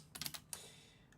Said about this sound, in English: Kaburagi-san, I think I'll fall asleep to your keyboard SMR.